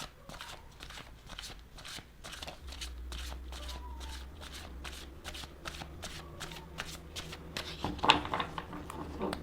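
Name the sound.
shuffling tarot cards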